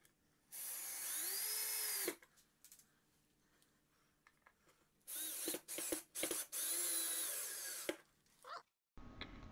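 A power drill drives #6 screws into a plastic battery organizer, whirring in two long bursts near the start and again later, with short trigger blips in between, loud and close with no talk.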